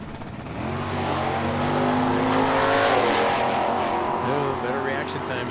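Drag race launch of a 1969 Chevy Camaro with a 400 cubic inch engine against a 1979 Mustang at Tucson Dragway: a loud, sustained engine roar that swells and holds, with an announcer talking over it.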